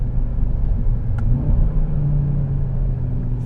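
A 500 HP Audi RS3 loping along at low revs, around 3,000 RPM, on a desert run, a steady deep engine rumble heard from inside the car with no talk.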